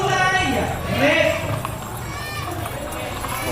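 Horse hooves clip-clop at a ring-jousting (juego de anillo) event during the Mayohan Festival in Tayabas, Quezon, mixed into crowd noise while a commentator talks.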